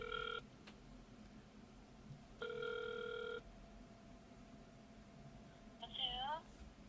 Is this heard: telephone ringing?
yes